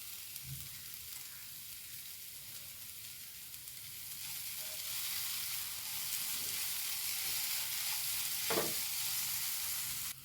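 Shredded kothu chapati fries in a pan with a steady hiss that grows louder midway, punctuated by a few soft scrapes and knocks of stirring, close and alone.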